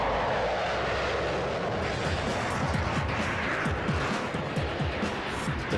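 A Lockheed Martin F-22 Raptor fighter jet flies by with a continuous, loud, broad engine roar that holds steady throughout.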